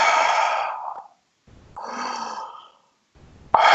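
A voice imitates the labored breathing of climbers in the oxygen-starved death zone of Mount Everest: two long, deep, breathy exhalations with a pause between, close and moderately loud, then a sharp intake at the end.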